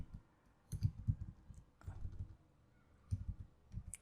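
A file path being typed on a computer keyboard, quiet bursts of key clicks in short irregular runs separated by brief pauses.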